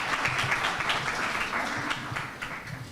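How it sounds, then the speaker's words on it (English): An audience claps through a speech, a dense patter of many hands at a moderate level that eases off slightly toward the end, with no voices on top. "Yes, clap that."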